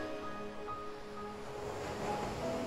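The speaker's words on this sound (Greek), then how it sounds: "Να ακούς τα κύματα να σκάνε στην ακτή." Waves break and wash steadily against a shore, a continuous broad surf rush with a gentle swell toward the end and no voices.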